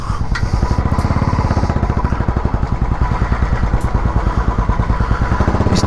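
A motorcycle engine idles with a rapid, steady, close-up chugging pulse while being parked outside a Decathlon store on a bike trip near Kasauli, Himachal, with no talking.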